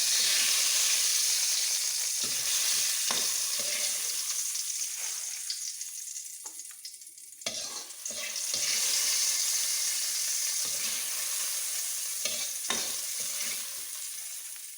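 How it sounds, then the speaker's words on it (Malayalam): Mustard seed tempering sizzles and hisses steadily as it is poured and stirred into a Kerala tal thiyal curry, a continuous loud frying crackle with clinks of stirring and no talk. "കടുക് താളിച്ചത് നമുക്ക് കറിക്കകത്തേക്ക് ഒഴിക്കാം."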